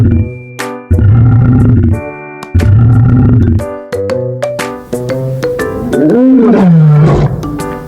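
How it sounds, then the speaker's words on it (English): A lion roars loudly and close, with deep repeated grunting bursts building into a long rising and falling roar near the end. "A lion."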